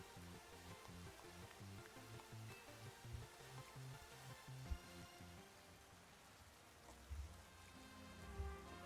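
Steady video-game rain in Pokemon Legends Z-A patters continuously with faint background music and a few soft thumps, fairly quiet throughout.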